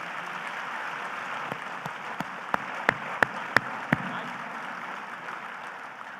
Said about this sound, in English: Can you give them a round of applause, please?